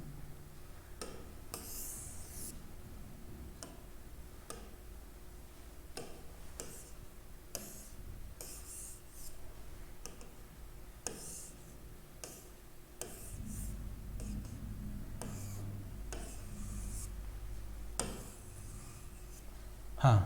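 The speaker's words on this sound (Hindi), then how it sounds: "मैं थोड़ा सा इसको साफ लिख लेता हूं।" Marker or chalk writing on a board during a maths lesson, a long run of scattered taps and scratchy strokes at steady close range, with no talking over it.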